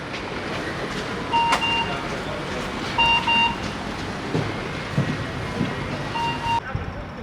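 Inside a train riding toward Rotterdam in the Netherlands, a steady rolling rumble fills the carriage, with short electronic beeps sounding in pairs several times over the ride.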